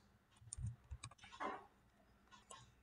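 A few soft, scattered clicks of keys on a computer keyboard, very faint and sparse, form a short irregular run in a quiet room.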